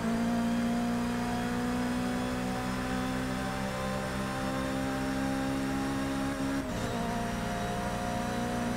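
A Mercedes race car in Forza Motorsport 6 holds a steady, loud engine whine at high revs, with a brief gear shift or lift-off dip near the end before the tone drops and continues, no talk.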